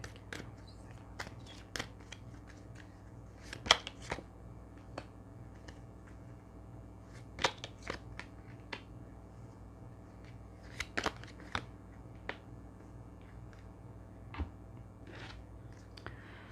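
Tarot cards being shuffled and handled, soft crisp snaps and riffling clicks scattered irregularly over a low steady hum, quiet and close.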